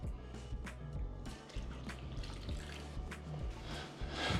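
Milk poured into pancake batter, a faint liquid trickle and splash with soft clinks and kitchen knocks, quiet and close.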